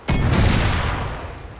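A loud, sudden rocket explosion in the video game Far Cry 6 booms close by and then rumbles as it fades over about a second, with no voices.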